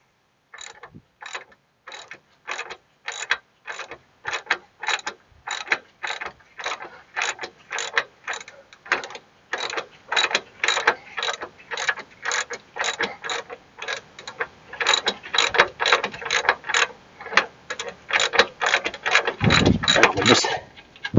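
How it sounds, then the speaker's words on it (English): A hand ratchet loosens the rear shock nut on a Chevy Trailblazer, making a long, steady series of crisp close clicks that speeds up and grows louder toward the end. "I'm going to switch off to a ratchet."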